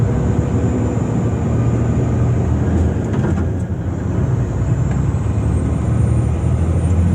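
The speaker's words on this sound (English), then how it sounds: "Here you watch me split the gears," A work truck runs loud and close, its engine roaring continuously as the driver splits the gears into high range, with a brief dip in the middle and a rising whine near the end.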